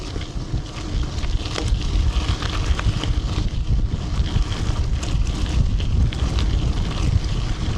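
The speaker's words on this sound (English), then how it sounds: "that is windy" Strong wind roars and buffets the microphone continuously during a gravel bike ride, with a low rumble underneath and no one speaking.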